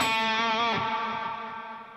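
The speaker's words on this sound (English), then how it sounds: "You hear how the reverb gets bigger?" An electric guitar plays a sustained, distorted chord through a Headrush effects unit, its reverb swelling and blooming as the tone rings out and slowly fades over about two seconds.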